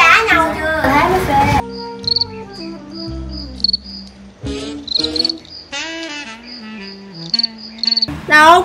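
Cricket chirping in repeated short bursts, close and fairly loud, with children's voices and adult talk around it in a seaside setting in Vũng Tàu.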